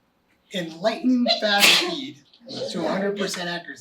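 A person sneezes once, loudly and up close, in the middle of a parent training talk about behavioral momentum, with the speaker's voice continuing just before and after.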